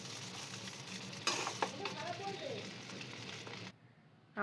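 Chowmein with vegetables is stirred in a hot frying pan, giving a close, continuous sizzle with scraping strokes while someone talks.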